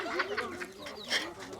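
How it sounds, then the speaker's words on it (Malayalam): High, thin peeping calls of small chicks overlap in a busy cluster, fairly quiet, with some faint voices underneath. "കുറേ കോഴിക്കുട്ടികളുണ്ട് കേട്ടോ ഇതിൽ"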